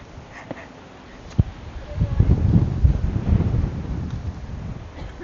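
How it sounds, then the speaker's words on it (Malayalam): Strong wind gusting across Nandi Hills, a hilltop in Karnataka, buffeting the microphone with a loud, rough low rumble that swells after a couple of seconds and keeps roaring, marked by a few sharp knocks. "ചുഴലിക്കാറ്റ് വരുന്ന പോലെ എങ്ങാനുണ്ട്. അത്ര നല്ല കാറ്റുണ്ട്."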